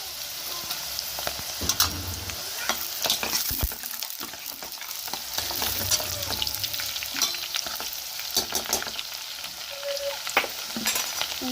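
Green chillies frying in a pan for a village-style beef curry, a continuous crackling sizzle with intermittent spatula scrapes and stirring knocks, close and moderately loud, without talking.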